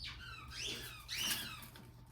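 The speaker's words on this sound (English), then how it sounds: "Zazu is squeaking, I'm sure you can hear that." Zazu, a small pet, lets out a few high, rising-and-falling squeaks in quick succession, fairly faint and close, with no talking.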